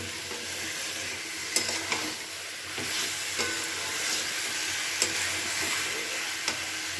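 Boiled taro stolons are stirred with spices in a frying pan for a prawn kochur loti dish: a constant sizzle with scraping strokes and a few sharp knocks of the spoon, no voices.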